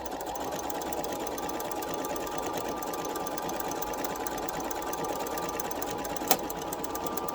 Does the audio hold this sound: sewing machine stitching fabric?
yes